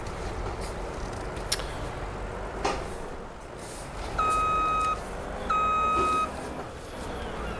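A rock truck in Farming Simulator 25 idles with a low engine rumble and a few clunks. Two separate bursts of steady reversing beeps follow, each lasting under a second.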